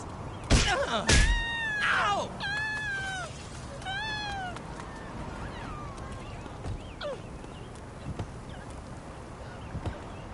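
A cat meows repeatedly in Saints Row The Third, with a cluster of rising, wavering calls up front among game sounds, then fainter calls later under a steady background.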